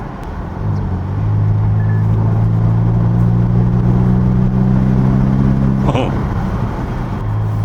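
A Ferrari Roma Spider in seventh gear on the comfort setting, heard from the cabin as a deep, steady engine rumble that swells and holds with a low drone, fading slightly near the end.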